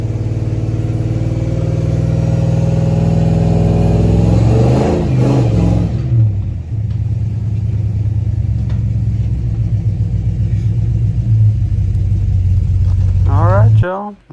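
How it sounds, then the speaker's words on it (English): A Megacab square body short bed dually truck does a victory burnout, its engine droning loud and steady, revving up and shifting pitch in surges before dropping off at the end, with a voice heard briefly over it. "Victory burnout."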